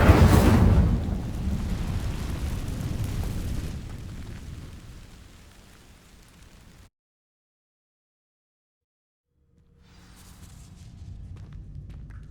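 Incendio fire spell setting dry vines ablaze in the Hogwarts Legacy video game, a loud roaring burst that rumbles and gradually fades, drops into full silence, then returns as a faint, low crackle.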